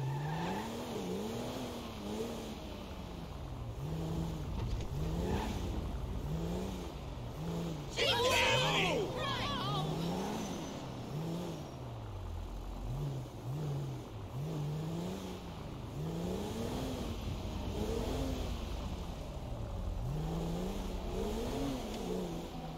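A car in GTA V drives through city streets, its engine revving up and down in repeated surges with a brief tire screech midway, while voices talk over it throughout.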